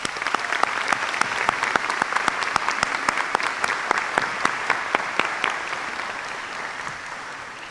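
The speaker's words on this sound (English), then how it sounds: "Could everyone please give them a round of applause?" Students and staff in a high school assembly applaud welcomed guests, a dense, steady wash of many hands clapping at close range for several seconds, tapering slightly at the end.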